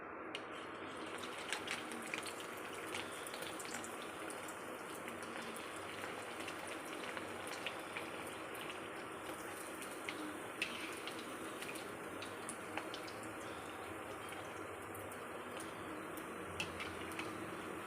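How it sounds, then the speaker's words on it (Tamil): Bread pieces fry in ghee and oil for halwa, giving a quiet, steady sizzle with faint crackles and pops throughout. "நல்லா பொன்னிறமாக வறுத்து எடுத்துக்கோங்க"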